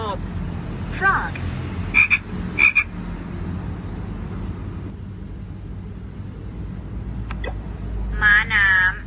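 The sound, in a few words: frog croaking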